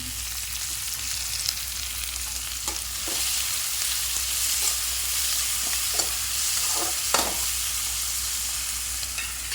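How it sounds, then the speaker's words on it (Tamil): Tomatoes and onions frying in a pan with salt, a steady close sizzle throughout with occasional stirring scrapes and clicks, no voices. "இப்போ தக்காளி வெங்காயம் வேணுங்கிறதுக்கு உப்பு போட்டுக்கிறேன்"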